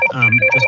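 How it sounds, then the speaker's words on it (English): A mobile phone rings during a council licensing committee meeting, a short, loud electronic ringtone with a steady high tone over a pulsing melodic pattern. "that's my phone ringing"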